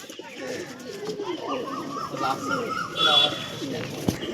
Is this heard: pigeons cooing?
yes